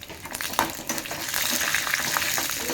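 Curry leaves and dried red chillies crackling and sizzling in hot oil in a pan, a dense bright frying hiss with occasional stirring scrapes, close and steady.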